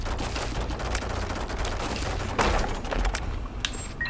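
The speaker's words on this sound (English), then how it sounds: "That's a troll bomb." A troll bomb explodes in The Binding of Isaac with a sharp burst near the middle, set in dense, continuous game noise and clattering effects.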